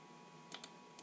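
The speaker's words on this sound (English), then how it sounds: "I'm just going to click the start button." Faint, close clicks of a computer mouse on a Windows 9x machine, two quick pairs of clicks on a quiet background.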